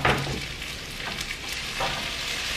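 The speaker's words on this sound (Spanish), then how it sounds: "Voy a dejar que se acitrone muy bien la cebolla" Onion sizzles in a pan on a home kitchen stove in Mexico, a steady bright crackle and hiss that runs continuously and close, with no talking.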